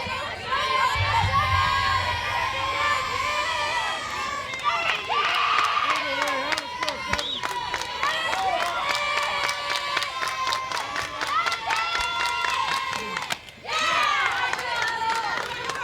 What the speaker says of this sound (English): You're going to find mumbles from the crowd when that ball's not caught cleanly and it's called a strike.